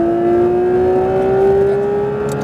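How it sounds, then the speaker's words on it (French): Porsche 992 GT3 RS engine pulling at full throttle on a track at Le Mans, a loud, close, steady rising engine note held for the whole moment. "Gaz à fond, Bastien, je t'en prie."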